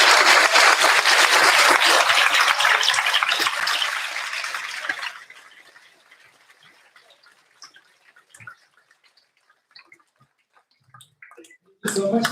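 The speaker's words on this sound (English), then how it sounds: "Can we please have a big round of applause to these amazing students?" Dense applause at a graduation ceremony for the students fills the first five seconds, then fades to scattered claps and quiet before a brief burst returns at the end.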